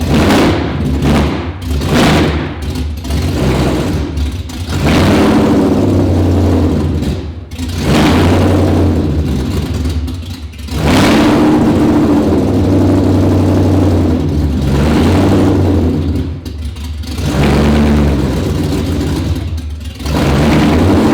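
A 2019 Roush Stage 3 Mustang, started for the first time after a blown engine, revs loudly in repeated throttle bursts. It chops and sags between blips and does not settle into a steady idle.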